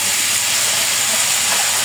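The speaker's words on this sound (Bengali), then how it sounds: "একটু পানি দিয়ে দিলাম, এখন এটাকে ভালোভাবে কষাবো। কষাবো বলতে একটু ভাজা ভাজা করবো তেলে" A broad, even sizzle and hiss rises from a ground chili-garlic spice paste frying in oil after a splash of water goes in, continuous and close with no voices over it.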